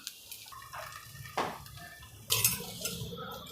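A metal lid set down onto a pan of cooking rava handvo, a few light clanks and scrapes of cookware with soft sizzling beneath, close and fairly quiet.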